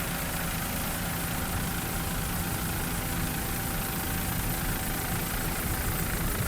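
Offshore racing powerboat engine throttling at a 2002 Daytona race: a steady, rough, fairly distant drone with a broad roar and no pauses.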